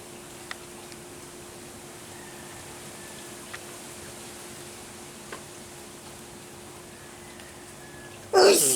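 A single sharp sneeze bursts out loud and close at the very end, after a long stretch of quiet background hiss with a few faint, isolated ticks.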